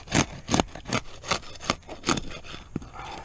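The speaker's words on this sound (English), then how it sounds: "now we're going to manipulate the second row of shingles before extracting the fasteners" Asphalt roof shingles being lifted and shifted by hand in a second row before nails are pulled, giving a series of about eight short, close scraping rubs at a steady rhythm with no talk.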